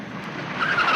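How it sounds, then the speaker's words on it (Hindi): A car brakes hard and its tires skid, a loud rising screech that swells over one second as the vehicle slides toward a stop. "ठहरो, गाड़ी रोको।"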